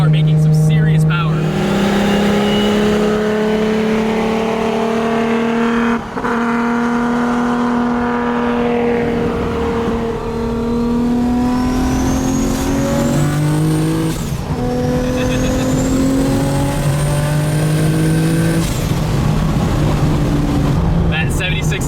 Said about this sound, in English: hazing the tires in an all-wheel drive car, making some serious power